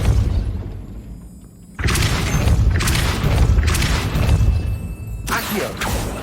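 In the video game Hogwarts Legacy, a gate mechanism starts up after a quiet stretch with a sudden heavy boom, then grinding, rumbling machinery and further crashing thuds.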